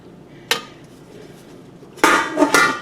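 A metal lid clanks onto a cooking pot of simmering BBQ sauce: one sharp clink, a pause, then a louder rattling double clatter as the lid settles, heard close and without speech.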